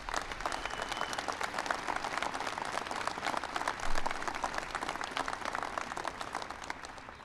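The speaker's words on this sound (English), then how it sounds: "Give him a big round of applause." An audience applauds steadily for Officer Richard Donahue at a White House event honoring the Boston Red Sox, a dense, even wash of many hands clapping that swells briefly midway and carries on without speech.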